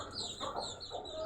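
Chickens in a rooftop coop on a winter morning, a few soft clucks and calls close by amid general barnyard murmur, fairly faint throughout.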